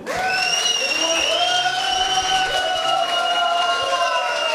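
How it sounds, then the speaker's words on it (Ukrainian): At a wedding party dance contest, the crowd applauds the boys with continuous clapping and some cheering, while a sustained vocal or musical tone rings over the top. "Оплески всім хлопцям."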